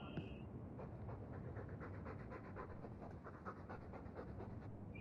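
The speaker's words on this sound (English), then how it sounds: "All that noisy dog breath" Fen, a dog companion in the video game Dragon Age II, pants steadily and noisily up close, a continuous rhythmic breathing that runs the whole stretch with no voices over it.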